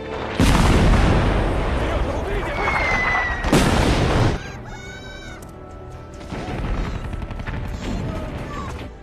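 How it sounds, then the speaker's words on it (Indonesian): Bombs exploding in a World War II film battle scene, loud deep booms and rumbling blasts mixed with dense noise and other film sound, fading to a quieter stretch before the rumble returns. "tiba-tiba bom pun diluncurkan kembali oleh musuh"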